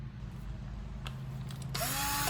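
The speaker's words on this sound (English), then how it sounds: "I just want to drill a guide hole." A power drill bores a guide hole into wood for a homemade easel. A low motor hum builds, then a bright, loud drilling whine rises near the end, close by.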